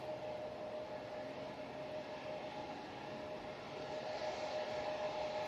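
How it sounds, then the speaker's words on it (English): A Sun Express Boeing 737 MAX 8, inbound from Dalaman, touches down at Manchester Airport as a steady, distant jet roar that swells slightly toward the end, with no one talking. "Sun Express just touching down, just got that one."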